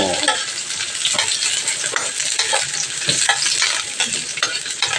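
Ginger and onion sautéing in a pan for chicken tinola. A dense, continuous sizzle with rhythmic stirring scrapes, close and fairly loud, with no voices.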